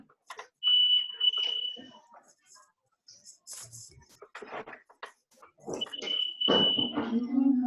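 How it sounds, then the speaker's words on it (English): A phone ringtone sounds twice during a club meeting, each burst a steady high electronic trill, with people talking and moving around between and over the rings. "That was my phone."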